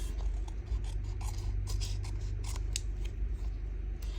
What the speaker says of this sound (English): And then we just trim the edges off.